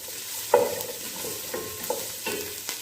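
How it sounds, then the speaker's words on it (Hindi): Ingredients for chicken hot and sour soup being sautéed and mixed in a pan, a low sizzle with several sharp scrapes and taps of a spoon against the pan, close and quiet. "थोड़ा सा सौते करेंगे, ज़्यादा ब्राउन नहीं करेंगे इसको।"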